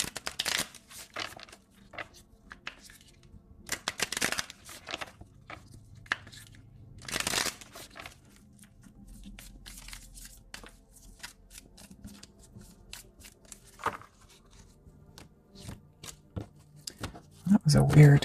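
A deck of Island Time Wellness oracle cards is shuffled by hand in repeated crisp riffling bursts separated by pauses, with a soft voice heard at times between them.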